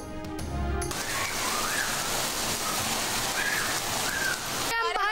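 Heavy rain falls with water flowing, a dense, loud, constant hiss under brief sounds at the start and end.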